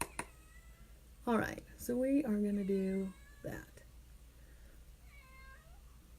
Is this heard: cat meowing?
yes